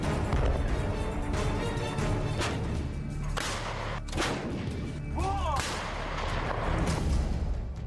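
M777 howitzer artillery fire in a war zone: several loud, sharp booming reports with rumbling tails, spaced irregularly over a continuous low background roar.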